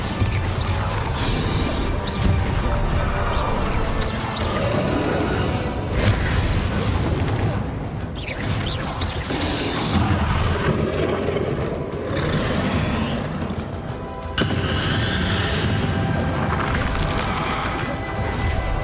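Spell blasts and explosions in Hogwarts Legacy combat: a continuous loud barrage of crashes, booms and impacts layered over game music and effects for the whole stretch.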